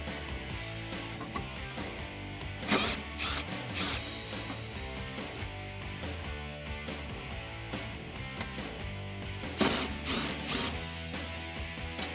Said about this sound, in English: using a 10 millimeter socket, remove the 3 bolts on the inside of your taillight